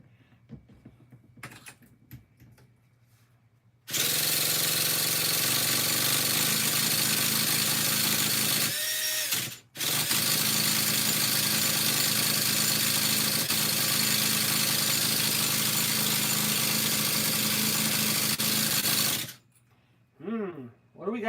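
A Traxxas T-Maxx nitro RC engine fires up and runs at a loud, steady buzzing idle for about fifteen seconds, cutting out briefly once and then stopping, with a person talking before and after.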